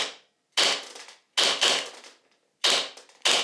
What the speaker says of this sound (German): der Abzug ist nicht weich, es ist ein bisschen hakliger, man muss ein bisschen mehr drücken, es kratzt ein bisschen mehr beim Schießen